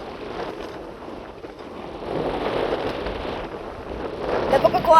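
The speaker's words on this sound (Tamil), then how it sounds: "காற்று ரொம்ப அடிக்குதே." Strong wind blowing at an open outdoor spot near Ramanadi dam, gusting against the microphone as a rough rushing noise that grows louder and more buffeting toward the end, with some talk.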